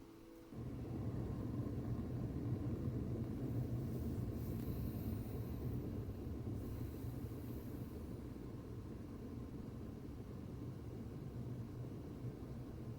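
Storm in the video game Astroneer, a deep steady rumble swelling in after a quiet start and holding loud and broad, with brief hissy gusts over it, no talk.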